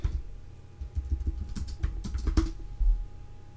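Numbers tapped out on a computer keyboard in a quick, uneven run of light clicks, close and fairly quiet, with no talking.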